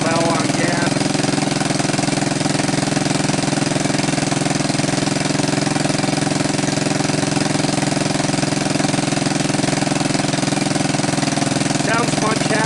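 A 1984 Honda ATC200M three-wheeler engine runs steadily after repair, a loud, continuous close-up drone that stays even and unbroken from start to finish.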